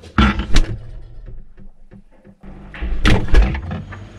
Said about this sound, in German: Türe zu, Licht aus.